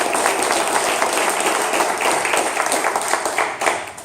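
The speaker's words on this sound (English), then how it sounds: "definitely another quick round of applause for 1 Million Cups" A crowd at a 1 Million Cups startup gathering in Daytona Beach gives a quick round of applause, a dense, fairly loud wash of many hands clapping that holds for a few seconds without any talking.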